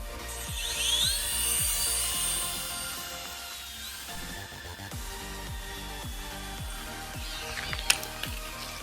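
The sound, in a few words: toy remote control helicopter flying upward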